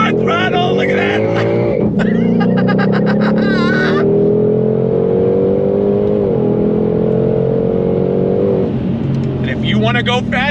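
A 2022 Ford Shelby GT500 accelerates hard on throttle, its engine note climbing loudly through rising revs, dipping briefly at a shift and then pulling again, with someone talking excitedly over it in bursts.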